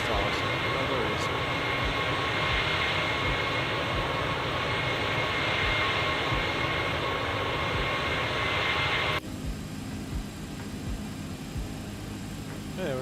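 A steady, loud engine roar fills the cockpit in X-Plane 12 on a community flight across East Asia as another aircraft approaches head-on, then the noise drops abruptly to a quieter hum; voices talk intermittently underneath.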